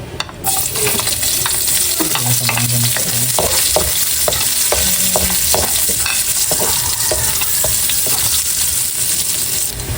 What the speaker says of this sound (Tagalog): ako po ay magigisa na po ng sibuyas at bawang